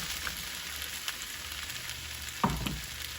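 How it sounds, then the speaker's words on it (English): Potato and bora sizzle in hot oil in a pan for a Guyanese dish, a steady close crackle with a couple of brief clinks from stirring. "My potato has fried to my likeness."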